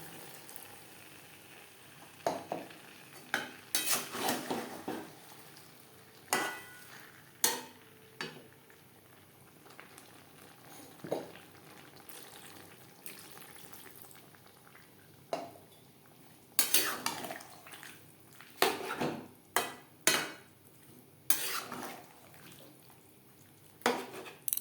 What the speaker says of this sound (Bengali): সবজি নাড়াচাড়া করে নেব।